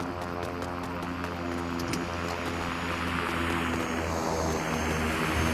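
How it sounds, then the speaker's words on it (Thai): A propeller airplane drones overhead in the online battle royale game Super People, a steady loud engine hum that holds throughout with faint game sounds beneath. "มีเสียงเครื่องบินอยู่"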